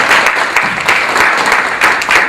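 An audience at a gaming industry talk applauds a guest, a dense close wash of many hands clapping with slight swells in intensity, continuous across the moment.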